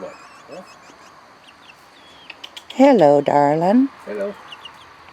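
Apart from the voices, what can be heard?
chickens clucking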